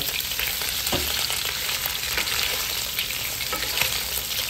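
Pork steak pieces fry in hot oil in a pan until golden brown for a Kapampangan bistek, giving a steady, crackling sizzle with scattered sharp pops throughout and no voices.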